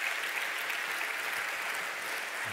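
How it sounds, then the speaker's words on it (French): An audience claps in a dense, steady wash of applause that holds evenly throughout with no voices on top. "Je demande de les applaudir."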